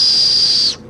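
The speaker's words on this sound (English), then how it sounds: "But it's a safety whistle." A UST safety whistle, a cheap plastic survival whistle clipped to a backpack carabiner, gives one loud, steady, piercing shrill blast that cuts off sharply after most of a second.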